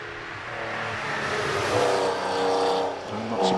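A 3-litre air-cooled, rear-engined Porsche 911 races at the Prescott speed hill climb, its engine revving and droning steadily at moderate distance and rising and falling as it climbs.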